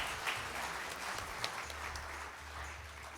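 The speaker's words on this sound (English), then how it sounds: "Can we have a huge round of applause for Mr. Harjeet Khanduja?" Steady applause from a conference audience at the IMA HR Conclave 2025, a dense patter of many hands clapping at moderate distance, fairly even throughout with a low hum underneath.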